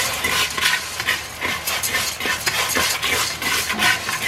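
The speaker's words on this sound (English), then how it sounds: "I'm gonna go ahead and add my fideo, and I'm just gonna brown it." Dry fideo noodles being stirred and toasted in a hot pan for sopa, a continuous sizzling hiss with frequent scraping and clinking stirring strokes, close and steady throughout.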